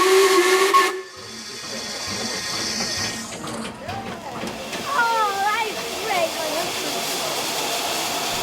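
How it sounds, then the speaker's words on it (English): A narrow-gauge Talyllyn Railway steam locomotive lets out a loud shrill whistle at a station, then a steady rushing hiss of steam carries on, with a voice talking faintly underneath. "This locomotive seen here is the Tallylyn Railway's number 7 engine, Tom Rolt"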